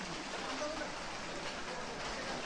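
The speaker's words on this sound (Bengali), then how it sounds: "আবার বৃষ্টি নামতেছে, একটু থেমেছিল বৃষ্টি, এখন আবার বৃষ্টির বড় বড় ফোঁটা পড়তেছে।" Heavy rain with big drops pours down on a city street in a steady, dense hiss with no pauses, close and constant throughout.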